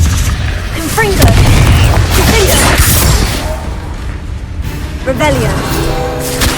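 A Confringo fire-blast spell in Hogwarts Legacy bursts with heavy booming and whooshing blasts amid loud, busy game sound, and a voice talks over it.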